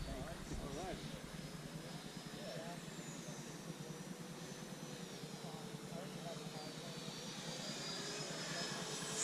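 An RC model F-16 jet whines overhead, a steady, distant drone that shifts in pitch as it moves, with voices talking now and then beneath it.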